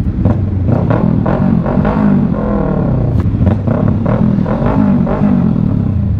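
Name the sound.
motorcycle exhaust pipe revving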